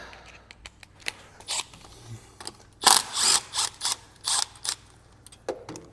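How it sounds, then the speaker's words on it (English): A ratchet clicks in quick bursts while undoing bolts on a rusty, broken UTV, with loud close ratcheting runs in the middle that fade to lighter clicks. "We just gotta do these, undo these 2 bolts, or knock it off"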